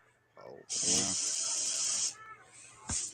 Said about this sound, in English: He sprayed it with Lysol?